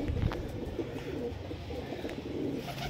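High-flyer pigeons in a home loft in Liluah, Howrah, giving soft low coos close by against a quiet background, with one brief louder coo at the start.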